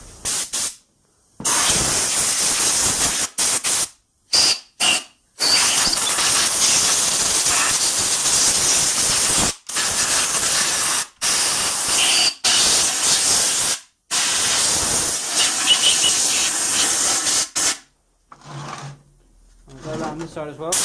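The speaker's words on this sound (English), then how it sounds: "So I'm just going to turn on the compressor quickly. Always has a leak" Loud, steady hiss of an air compressor blowing compressed air on a Lister LD1 engine restoration, cut into repeated bursts with short silent gaps, ending in quieter sounds.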